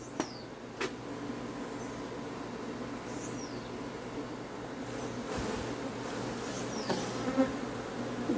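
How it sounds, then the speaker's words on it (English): Honey bees buzz steadily around a hive frame being shaken out during a swarm capture, a continuous droning hum with occasional louder passes of individual bees close by, no talking. "And of course it has some bees here on this frame."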